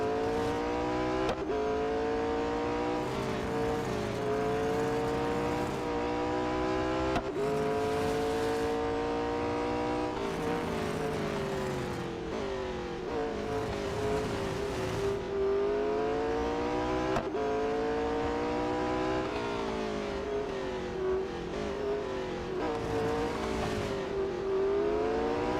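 McLaren 600LT race car in Real Racing 3 screaming through gear changes, engine pitch climbing and dropping in repeated sweeps as it accelerates and brakes around a lap, loud and continuous with no talk.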